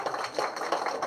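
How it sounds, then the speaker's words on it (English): Scattered applause from a presentation audience at a crypto event in Malta, light and fairly quiet, with a steady patter of hand claps lasting about a second. "Now you can clap."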